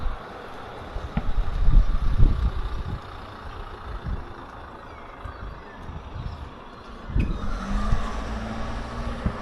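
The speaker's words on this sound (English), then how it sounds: "Of course there's cars going past." Cars and a truck roll past on a busy street in the small town of Greenock, in the Barossa Valley in South Australia. The passing traffic swells and fades amid wind buffeting the microphone.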